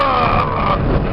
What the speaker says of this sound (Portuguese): Ô, Mael, o carro chega a 180 nem fudendo, velho!